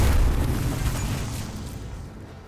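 Explosion in the Rogue Trader Warhammer 40K video game: a deep, rumbling boom that starts heavy and fades out over a couple of seconds, with no talk.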